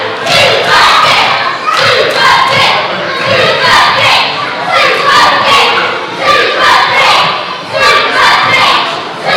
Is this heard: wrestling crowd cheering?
yes